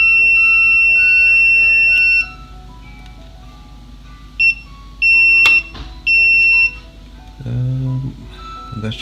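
High electronic beeps sound in a few bursts, a long tone then several short ones, over faint background noise, from testing a graphics card component for a short.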